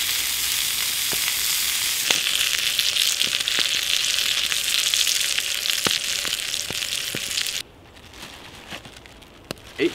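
Burgers sizzling in a pan over an outdoor bushcraft fire in the woods, a loud continuous frying hiss dotted with pops and crackles that drops abruptly near the end, with no talking.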